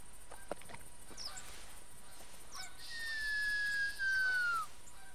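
Ducks calling in the hunting game theHunter, a few honking, goose-like calls, with one long drawn-out call rising above a steady outdoor ambience.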